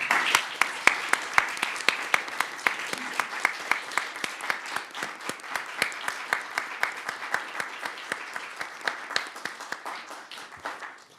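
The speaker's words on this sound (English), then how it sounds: "join me in giving them a very big round of applause to Seema and our speakers for today" Small audience applauding speakers at a democracy report presentation in Stockholm, a sparse run of individual claps with a steady rhythm, fairly close and moderate in level, continuing alone for about eleven seconds.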